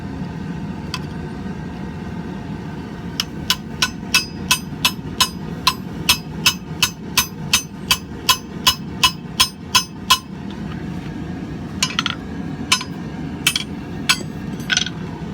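Steady, evenly spaced hammer blows on a steel drift punching through hot steel while forging a small Viking axe pendant, about twenty sharp ringing strikes, then a few heavier clangs after a pause, over low background hum.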